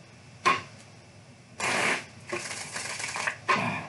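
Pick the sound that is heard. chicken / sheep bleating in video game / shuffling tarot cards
shuffling tarot cards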